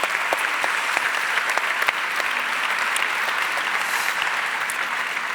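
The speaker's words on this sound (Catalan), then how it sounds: "Molt bé, un aplaudiment" Theatre audience at a play presentation in the Teatre Principal de Terrassa applauds steadily, a dense, even wash of many hands clapping at moderate distance with no voices over it.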